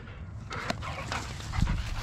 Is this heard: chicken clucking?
no